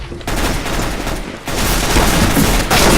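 A loud, rapid barrage of gunfire from the video game Counter-Strike: Global Offensive, with close, overlapping shots and bursts that keep going with only a brief dip in the middle.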